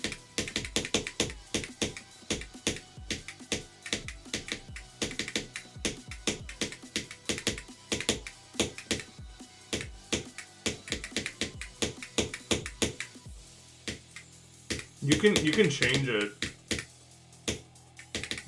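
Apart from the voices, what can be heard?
typing on a computer keyboard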